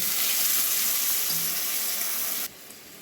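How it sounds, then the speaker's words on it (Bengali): Vegetables fried for a Bengali mourola fish batichochhori hiss in a pan as water goes in. A loud, steady broadband sizzle runs for about two and a half seconds, then drops sharply to a quieter hiss, with no talking. "সবজিগুলো ভেজে নিয়েছি এবার আমি জল দিয়ে দিব"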